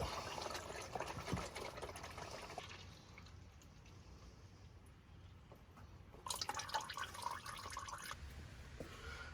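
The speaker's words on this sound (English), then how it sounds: "get your drain pan underneath and let it rip" Oil drains from a G56 manual transmission into a drain pan, a faint, steady trickling and splattering stream with brief louder pours, heard alone without talk.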